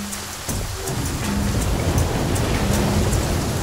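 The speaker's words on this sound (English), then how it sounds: "I can't use a fucking fire because it's raining." Steady rain hiss in The Flame in the Flood on Switch, a dense, loud wash of falling water that runs unbroken, with faint scattered ticks and a soft low tone beneath.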